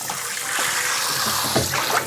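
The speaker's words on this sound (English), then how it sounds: "We're just going to start off by heating it with some really hot water before we try to do anything else." Hot water runs steadily over a greasy cast iron pan, a continuous close trickle and splash with small surges of spatter, heard alone without talk.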